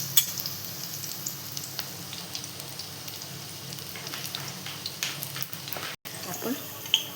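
Besan-coated bread toast sizzles and fries steadily in a pan after being flipped, a soft continuous crackle with faint clicks of handling, close by and alone.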